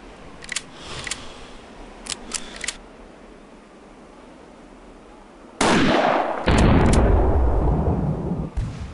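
Rifle shots fired in the PC hunting game Hunting Unlimited 2011: several sharp cracks early on, then a much louder, sustained burst near the end that rings on until the clip stops.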